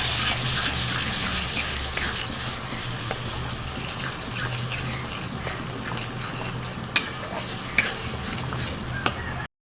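Chicken biryani masala and sour yogurt being stirred and fried in a pan, a steady wet hissing sizzle with a rushing, water-like texture and a couple of sharp utensil knocks near the end.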